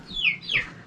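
Village chickens give two short, close clucks in quick succession, fairly clear against quiet surroundings.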